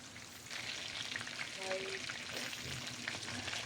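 Fish pieces coated in egg and all-purpose flour fry in oil over medium heat, giving a steady, fairly quiet crackling sizzle throughout with no talking.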